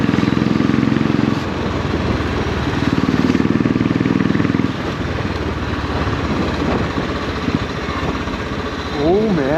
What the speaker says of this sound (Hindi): एग्जॉस्ट भी हैवी फील हो रहा है